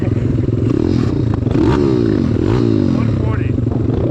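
Two pit bikes, a Piranha YX190 and a Kawasaki KLX 140, rev hard together at a drag race, their loud overlapping engine notes rising and falling in pitch. People talk and shout nearby over the engines.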